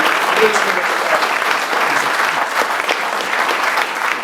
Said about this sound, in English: let's give Jamie a great round of applause